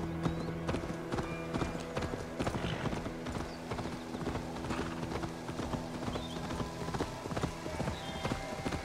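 Horse hooves clip-clopping in the Assassin's Creed Valhalla video game, a steady fast run of hoofbeats on hard ground continuing throughout at moderate loudness.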